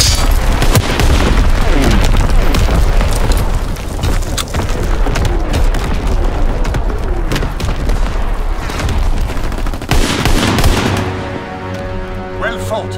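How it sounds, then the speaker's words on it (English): Naval primary battery guns fire in Call of Duty WWII, a loud, dense run of heavy booms and blasts with rumbling low end that fills the whole stretch, and game voices come through under the barrage. "Firing primary battery."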